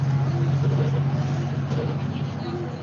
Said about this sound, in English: The bus is heading to the Polish border.